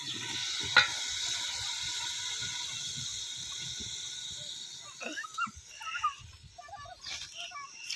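Peas and potatoes sizzle steadily in a hot pan, a continuous frying hiss that softens after a few seconds while light stirring clatter and faint movement take over.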